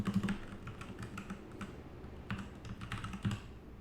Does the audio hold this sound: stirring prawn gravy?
no